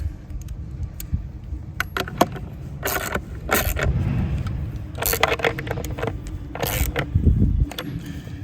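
A metal nut is threaded onto a short anchor bolt, giving a string of close, light metallic clicks and scrapes over a low background rumble, with no talking.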